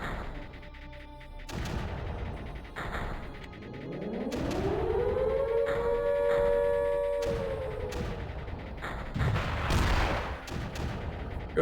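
Missiles launch in the strategy game Creeper World as a rising, siren-like whine swells and holds for several seconds, mixed with repeated sharp bursts of fire and impacts, loud and close with no talk.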